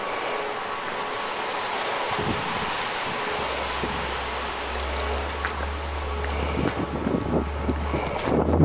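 Strong wind buffets the microphone in a steady roar inside an abandoned skyscraper during wind and rain, with a low rumbling drone joining partway through and gusts swelling louder toward the end.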